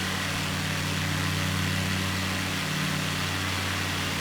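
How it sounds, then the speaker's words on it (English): Aircraft engine in a flight simulator video game, a continuous droning hum with steady low tonal bands that holds at an even level throughout, close and fairly loud, with no voices. "Let's cut my engine speed a little."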